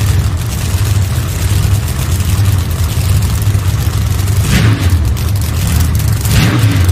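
Pro Mod drag racing car at the New England Nationals during qualifying, a loud, continuous low engine roar with a sharp boom near the middle, heard at close range with no talk.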